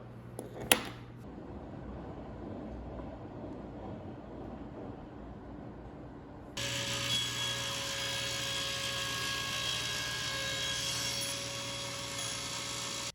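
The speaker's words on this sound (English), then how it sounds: "we'll go cut that off at the table saw" A quiet workshop hum with one sharp knock early on gives way to a table saw switching on for a birdhouse kit build. Its motor drones and whines steadily and fairly loud until the end.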